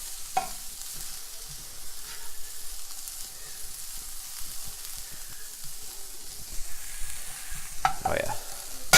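Eggs frying in an oiled pan while being stirred, a steady low sizzle with soft scraping and tapping of the utensil, a sharper clatter near the end, no talking.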